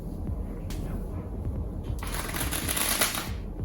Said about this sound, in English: I want you to give these cards one more shuffle. Just riffle them together, but don't push them together yet.